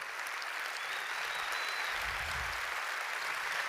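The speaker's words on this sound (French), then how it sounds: "Qu'on puisse les applaudir très fort" An audience at a tribute evening for cancer therapists applauds steadily in a dense, even wash of clapping that fills the room, with no voices standing out.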